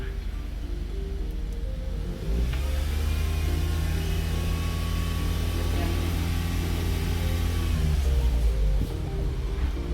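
Toyota Camry 2.4 V XV40 with a drive-by-wire electronic throttle controller, engine rising from idle into a sustained rev and then settling back, heard from inside with someone talking over it.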